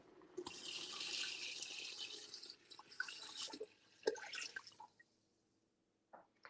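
Tap water runs into a pot for fish stock, a hissing splashy stream that thins and sputters to a stop partway through, followed by a few faint drips and clinks.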